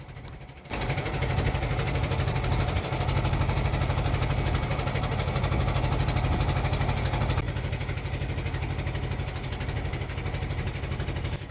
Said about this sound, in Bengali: সাথে সাথেই আমাদের ট্রলারে উঠে রওনা দিলাম